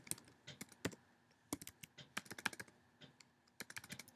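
Quiet typing on a Mac computer keyboard while entering login details: a short run of irregular, crisp key clicks with brief pauses, close and with no talk.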